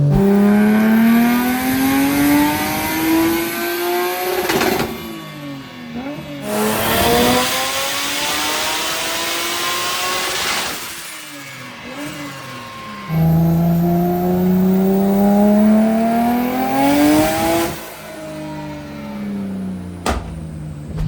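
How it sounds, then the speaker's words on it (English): A 700+ HP drift car engine on a dyno, revving hard in long rising pulls that climb in pitch, break off sharply and build again, loud and close throughout with brief dips between runs. "What do you think about Eddie on the dyno"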